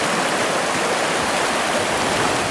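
Loud, continuous roar of white-water rapids on the Savinja river, heard while kayaking, a dense rushing wash of water close by with no pauses.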